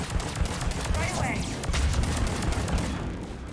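Pistol gunfire in the video game Mass Effect 3 Legendary Edition, dense repeated shots and combat noise running throughout at steady loudness, with a voice talking over the battle.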